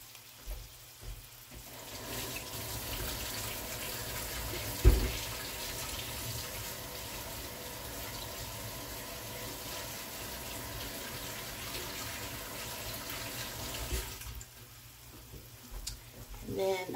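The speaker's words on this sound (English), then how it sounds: "I'm gonna wash my hands." Tap water runs steadily into a sink as hands are washed, a broad continuous hiss holding for most of the stretch before cutting off near the end, with speech faintly present.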